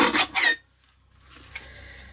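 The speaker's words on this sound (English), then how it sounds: "so I'm going to trim this piece at 3¼ inches" Cardstock scrap sliced on a paper trimmer for an Easter card, giving a short, close rasping cut for about half a second before quiet room tone.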